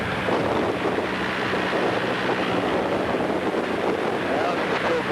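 A flying boat's engine running after a bird strike, heard from inside as a loud, steady, unbroken roar with heavy wind rush that holds level throughout, with no gaps or change in pitch.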